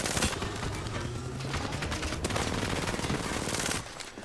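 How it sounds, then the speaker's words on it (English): Rapid video game gunfire rattles out in dense, continuous automatic bursts, loud and close throughout, with no talk over it. "I'm whiffing all my shots, Joe."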